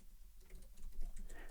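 Computer keys tap quickly and lightly in an uneven burst as a short terminal command is typed, close and clear with no talking.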